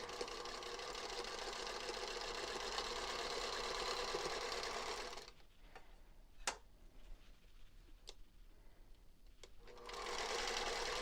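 A sewing machine piecing quilt block fabric runs in a fast, steady whir for about five seconds, stops for a quiet stretch with a few sharp clicks, then starts stitching again near the end.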